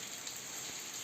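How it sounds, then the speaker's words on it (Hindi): Heavy rain falls in the mountains of Uttarakhand, heard as a brief, steady, even hiss with no voices. "भाई जम बारिश आ रहा है भाई, बहुत ज़बरदस्त बारिश हो रही है।"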